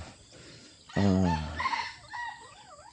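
A rooster lets out a loud crow close by, with softer clucking and other sounds from Rhode Island Red and Barred Plymouth Rock chickens around it in a backyard coop; a quiet room background throughout.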